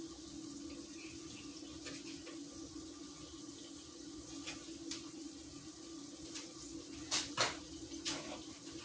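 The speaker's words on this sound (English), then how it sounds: "I'm gonna rinse my knife off" Tap water runs steadily into a sink while a knife is rinsed, a faint continuous stream with a few light clinks and splashes near the end, heard alone without talk.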